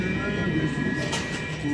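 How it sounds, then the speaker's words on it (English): A metro train running in Sweden, heard from inside the carriage as a constant low rumble with a faint steady whine and light rattling. "So now we're on the metro."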